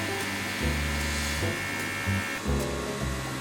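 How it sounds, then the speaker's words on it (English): A woodworking machine grinds and smooths the surface of a wooden backgammon lid, giving a steady high whir with rhythmic surges in pitch every second or so as the board passes through. "the lid is passed through a machine to grind and smooth the whole surface"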